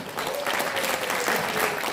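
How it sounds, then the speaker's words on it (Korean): A hall audience at an awards ceremony in the Busan City Hall auditorium claps in a dense, even wash of applause, steady and fairly loud, with a faint voice sounding briefly beneath. "큰 박수 한번 부탁드립니다"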